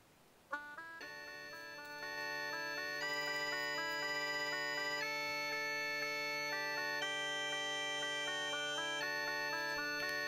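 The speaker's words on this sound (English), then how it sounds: "So you can hear those drones in the background." Sustained instrumental drones play in a video game, layered steady tones holding under a faint background, starting after a brief soft hit and swelling to a constant level as further tones join and shift pitch.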